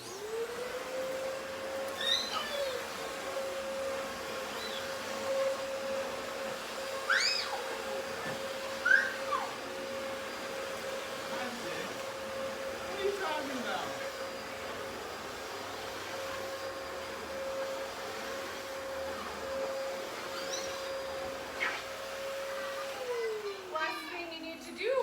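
Upright vacuum cleaner running steadily on carpet, a constant motor whine holding for over twenty seconds, with brushing swishes as it turns and changes direction, then winding down at the end.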